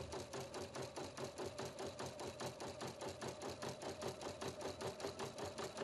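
A Husqvarna Viking Platinum Plus machine satin-stitches an appliqué in the embroidery hoop, a fast, regular needle rhythm of even mechanical beats that carries on without a break, fairly quiet and close.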